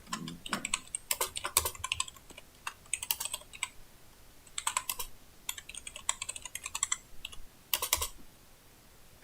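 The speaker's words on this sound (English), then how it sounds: "aggressive typing." Aggressive typing on a computer keyboard: rapid, hard clacking bursts of keystrokes in uneven clusters separated by short pauses, close and fairly loud, with no talking.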